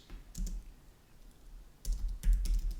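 Keys clack on a computer keyboard while code is typed, with two short bursts of several quick strokes separated by a quiet pause, close and fairly soft.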